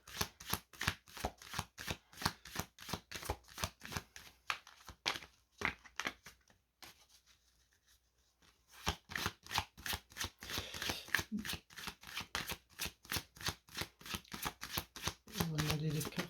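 Tarot cards shuffled in a steady, rapid riffling rhythm, close and crisp, with a brief pause midway before the shuffling resumes.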